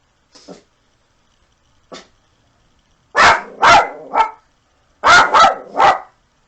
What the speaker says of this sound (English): It didn't take long before he started barking.